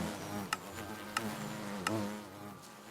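Bees buzz around hives in the modded Minecraft pack GregTech: New Horizons, a steady close insect drone with a few sharp clicks or ticks at intervals.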